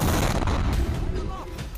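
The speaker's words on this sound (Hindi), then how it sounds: "उसी दौरान एक जोरदार ब्लास्ट सीसीटीवी में कैद होता है।" A car bomb detonates amid traffic near Delhi's Red Fort, caught on CCTV as a loud, sustained broadband roar and rumble that fills the short stretch and fades only slightly toward the end.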